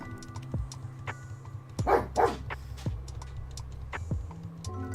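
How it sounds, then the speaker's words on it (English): Pet dogs bark a few times during a thunderstorm, heard indoors at a distance under a steady background hum. "apologies if you hear my dogs barking."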